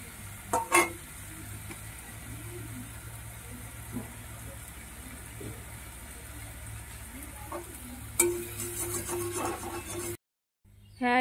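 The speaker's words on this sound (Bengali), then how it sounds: "এই যে আমাদের পেঁয়াজ লাল লাল করে ভাজা হয়ে গেছে" Onions fry in a little oil while being stirred, giving a soft, low sizzle with a few clinks of a ladle against the pan and faint voices nearby.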